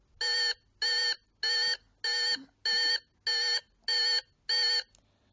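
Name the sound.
alert sound effect from a video editing app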